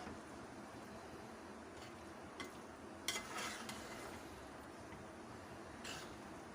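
Chicken noodles are tossed in a pan with two spoons, producing a faint soft sizzle with scattered scraping clinks from the spoons at the pan.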